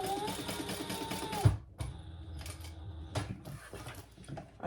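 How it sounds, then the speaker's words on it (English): A sewing machine stitching the edges of a cotton fabric bag with interfacing runs in a steady mechanical whir, stops abruptly, then restarts in short bursts, moderately close and fairly quiet. "we're going to sew all three edges, the two sides and the bottom"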